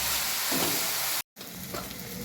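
A few curry leaves dropped into hot oil for a homemade pav bhaji base, giving a loud steady sizzle and crackle that cuts out for a moment and then resumes.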